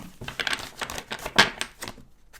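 Tarot cards are cut and shuffled by hand in a rapid, close run of papery riffles and taps that stops abruptly, ending with a single soft tap.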